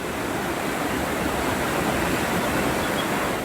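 Rivers and drains swollen by days of heavy rain rush in a steady, loud, unbroken roar of flowing floodwater, close and with no voices.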